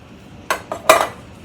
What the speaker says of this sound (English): we're just going to mix in that cabbage with the ground beef